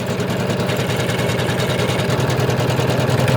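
Sewing machine stitching the edges of fabric for appliqué work, a steady loud mechanical chatter with rapid even rhythm running throughout, close and alone.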